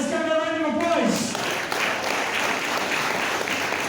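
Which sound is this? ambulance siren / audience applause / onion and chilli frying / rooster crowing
audience applause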